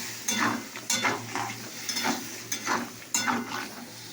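A spoon stirs curry in a pan after a little water goes in, about seven rhythmic scraping strokes with a soft wet sizzle between them, close and clear.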